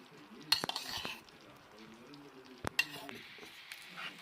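Gelatin being stirred into sugar syrup in a pan for jelly sweets, heard as a few sharp spoon clinks against the pan with soft scraping and a faint background hiss; fairly quiet, no talking.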